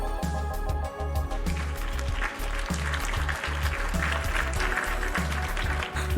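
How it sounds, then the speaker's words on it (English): A crowd cheers and claps loudly over a thumping, rhythmic soundtrack in the game VA-11 HALL-A, the roar swelling and staying dense. "The door opens and the crowd goes wild"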